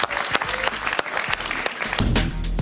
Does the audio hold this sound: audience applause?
yes